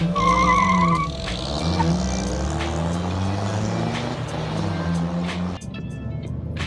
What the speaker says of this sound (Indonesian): Mobil udah glinding gitu, udah enteng aja jalannya.